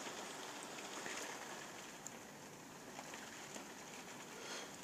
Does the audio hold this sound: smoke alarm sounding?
no